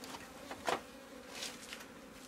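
Honey bees buzz faintly around an open hive during a honey harvest, with one louder bee passing close early on against a low, steady drone.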